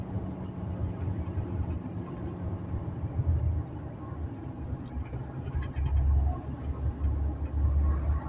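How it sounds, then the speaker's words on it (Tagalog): Loaded and empty trucks climb a road near a tunnel in the Abha–Khamis Mushait area of Saudi Arabia, a continuous low engine rumble that swells as vehicles pass close by. "So maraming mga truck na umahon dito guys,"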